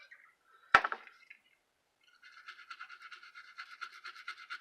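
A regular toothbrush scrubs in quick, steady strokes, the brushing growing louder and more continuous after a short sharp tap and a pause.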